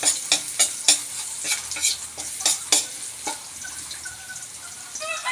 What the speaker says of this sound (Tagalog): At ilagay natin ang bawang. Haluin lang hanggang mag light brown.